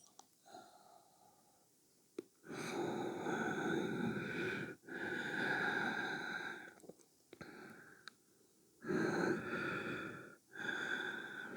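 Slow, deliberate yoga breathing in a quiet room: several long, soft breaths and exhales separated by short pauses, close and gentle.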